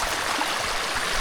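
A forest stream flows steadily over its bed, producing a continuous close rush and gurgle of clear water with no voices.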